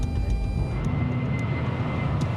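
An airliner climbing after takeoff makes a steady loud engine roar with a deep rumble and a constant hiss, unbroken and even for the whole stretch, with no voices.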